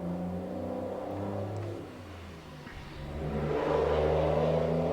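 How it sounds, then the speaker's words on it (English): Heavy trucks rumble past close by, a loud, steady engine drone that dips briefly midway and then swells louder as another truck goes by, with no talking. "those trucks are loud, man"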